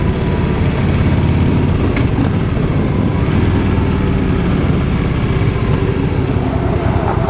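A 2016 Harley-Davidson Fat Boy S engine rumbles loud and close, a dense, steady low-end roar that holds without a break and with no voices over it.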